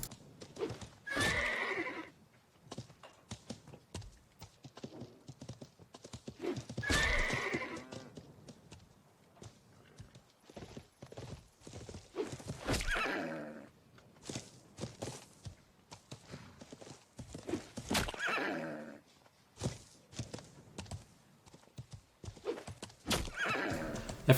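Horse hooves clip-clop and neighs ring out repeatedly in the medieval game Life is Feudal, several loud whinnies spaced a few seconds apart over steady galloping steps.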